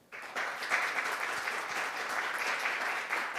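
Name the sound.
round of applause for panel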